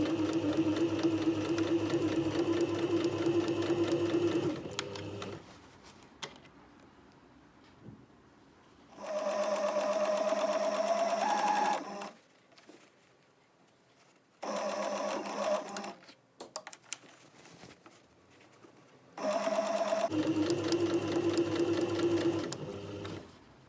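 A domestic sewing machine stitches a v-neck facing in several bursts of steady, close whirring, a few seconds each, separated by quiet pauses while the fabric is turned at the point.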